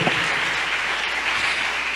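Congregation applauding during a church worship service, a steady dense wash of clapping that stays at one level for the whole two seconds, with no voices rising above it.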